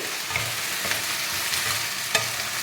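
Okra fries in a pan and is stirred, with a steady close sizzle and soft scraping stir strokes throughout, and no voices.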